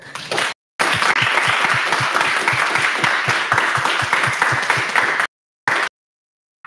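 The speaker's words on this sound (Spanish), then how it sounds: "un fuerte aplauso, por favor" Audience applause at a game-industry conference talk, a dense burst of clapping from a room full of people, loud and sustained for several seconds before stopping abruptly.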